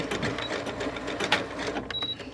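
A domestic sewing machine stitches down the trimmed edge of a straight-cut fabric strip on a quilt block, a steady fast whirring hum with rhythmic needle clatter running continuously and close by.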